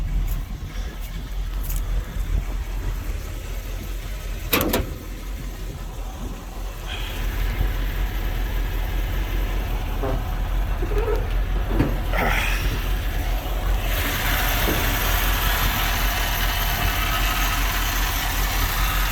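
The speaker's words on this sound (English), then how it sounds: "if you hear that little growling sound, that's the valve cover." An idling carbureted engine runs steadily with a low rumbling growl around the valve cover, broadband engine noise filling the scene with a few brief clicks and knocks over it.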